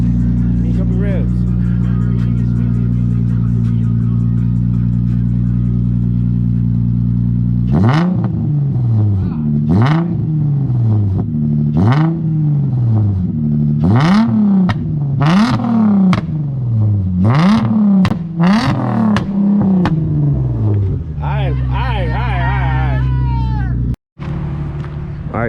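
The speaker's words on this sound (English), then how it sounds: "Give me a couple revs." A drift car fitted with a new, raised exhaust idles with a steady low rumble, then gets about seven sharp, loud revs in quick succession before settling back to idle.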